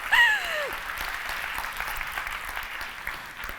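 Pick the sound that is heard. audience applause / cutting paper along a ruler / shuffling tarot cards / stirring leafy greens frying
audience applause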